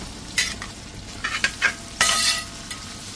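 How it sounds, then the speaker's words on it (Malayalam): Onion and curry leaves fry in a hot pan with a steady sizzle, broken by several scraping stirs of a utensil, close and moderately loud, with no talking. "നമുക്ക് സവാളയും കറി ലീഫും കൂടെ അങ്ങോട്ട് ഇട്ട് കൊടുക്കാം"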